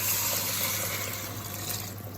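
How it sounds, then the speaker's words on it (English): Water pours steadily over vegetables and spices in a Moroccan tagine, making a close, continuous splashing gush with no talk over it. "And then we're gonna add in a bunch of water."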